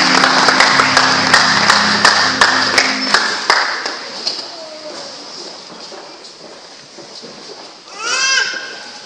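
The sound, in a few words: church congregation applauding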